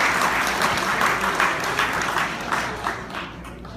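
Wedding guests applaud during a best man speech, a close, dense burst of clapping that pulses with a few stronger swells and fades slightly near the end.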